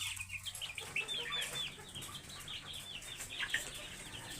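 Chickens kept in cages on a poultry farm cluck and chatter continuously, with overlapping calls that sound quiet and somewhat distant. Occasional rustling and wing movement can be heard.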